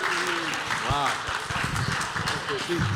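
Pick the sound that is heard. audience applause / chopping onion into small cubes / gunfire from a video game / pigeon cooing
audience applause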